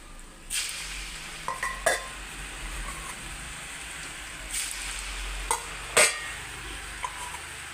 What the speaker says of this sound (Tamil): எண்ணெய் காஞ்சிருச்சு. இன்னும் முறுக்கு போடுவோம்